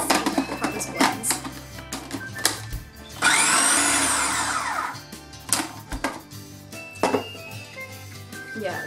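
A blender whirs through a thick jalapeño and coriander hummus, a loud steady run of about two seconds in the middle, with clatter and handling noises from the kitchen before and after it.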